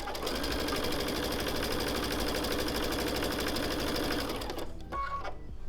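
A sewing machine stitches quilt block borders in a fast, even mechanical chatter that runs steadily for several seconds, then stops abruptly, leaving a brief quiet tail.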